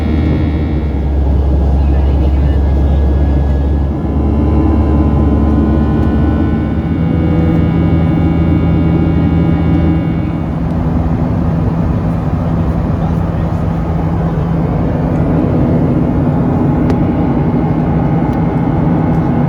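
Steady, loud low engine roar and airflow fill a Southwest Airlines jet cabin during the climb over desert and snow-capped mountains, continuous for the whole stretch with some faint murmuring mixed in.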